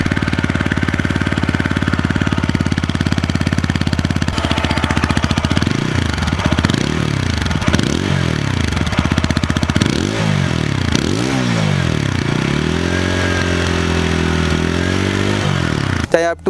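A TVS Apache RTR 160 4V motorcycle engine close by, steady idle rumble broken by a series of repeated throttle blips rising and falling, then a held higher rev near the end.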